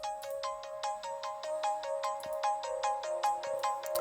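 A layered synth melody from a LOVBUG plugin, with quick plucky bell-like notes repeating in a steady rhythm over a sustained tone, fairly quiet and clean with no voice.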